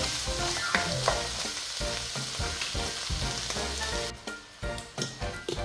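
Shrimp, broccoli, mushroom and young corn are stir-fried in a pan, with a constant sizzle under repeated scraping strokes and clattering knocks from stirring, close and loud, with no talk.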